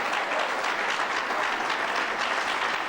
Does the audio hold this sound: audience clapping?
yes